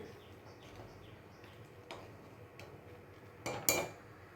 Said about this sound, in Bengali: ডালটা নামিয়ে দেবো, ডাল হয়ে গেছে